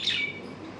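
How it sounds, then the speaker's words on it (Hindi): A small bird gives a short, bright chirp near the start, fairly close and clear, then fades into quiet indoor room noise with no talking. "वो चिड़िया है ना"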